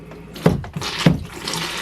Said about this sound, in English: I'm gonna rinse that ball off a little bit